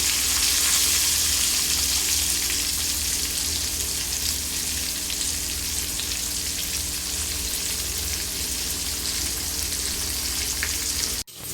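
Rohu fish frying in oil in a home kitchen, a steady close crackling sizzle that carries on evenly and then cuts off abruptly at the very end.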